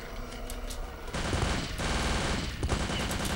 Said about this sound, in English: Are they shooting at the zombies?